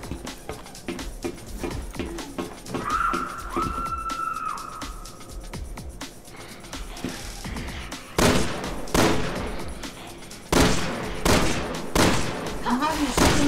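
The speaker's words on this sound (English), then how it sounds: "I'm having to shoot him in the butt because I can't reach his head" Resident Evil 6 gunfire aimed at a zombie: scattered loud single shots that come in clusters and get heavier later, with a short wailing tone in between and game sounds in the background.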